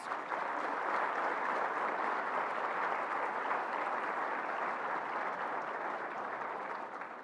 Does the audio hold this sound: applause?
yes